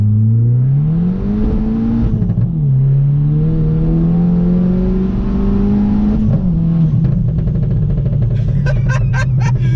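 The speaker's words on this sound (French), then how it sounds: "on va mettre le pop and bang, comme ça vous allez sentir la différence de bruit" A Volkswagen Polo WRC with 380 hp Stage 2 tune drones and revs up and down close by, then a quick burst of sharp pop-and-bang exhaust crackles follows near the end.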